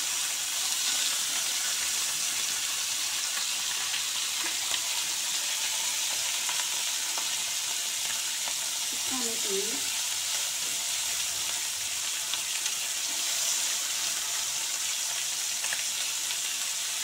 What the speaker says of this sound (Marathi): अशी फ्राय करायची।